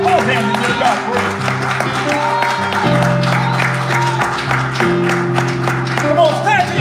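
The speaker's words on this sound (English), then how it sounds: "Come on, clap those hands and give God praise." A church congregation claps along in praise, with sharp repeated hand claps over organ-like music while a voice speaks over it.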